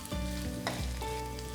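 Cashew nuts and grated coconut sizzle steadily in a hot pan for a rice dish, a continuous close frying hiss with a few soft stirring scrapes and no voices.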